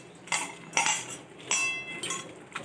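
Boiled green plantain being mashed by hand in a bowl with boiled bitter gourd and fried onion, a handful of soft squelching strokes and light clinks against the bowl at an uneven rhythm, close by with no talking.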